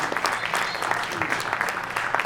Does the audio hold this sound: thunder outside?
no